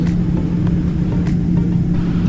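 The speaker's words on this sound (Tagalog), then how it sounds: "Maingay yung aeroplano. Yung aeroplano sa tingin ko parang malapit na masira. Maingay siya." Aboard an airplane in flight, a noisy engine fills the cabin with a loud, unbroken low drone and rumble, with no voices over it.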